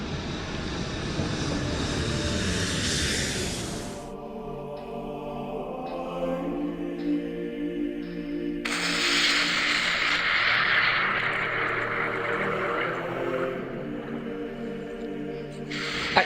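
Roaring airplane engine drone of a plane losing control, shifting abruptly in pitch and intensity, sustained and loud throughout with no voices.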